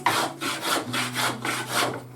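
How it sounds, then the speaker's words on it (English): A hand plane shaves wood to taper a chair leg for a stick chair, giving about five rhythmic, close, scraping strokes with no talking. "Basically just start planing."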